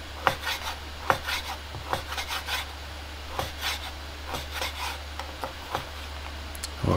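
A knife dices vegetables for stew on a wooden board, with steady close taps and short scraping strokes repeating in an even rhythm over a low background hum, and no voices.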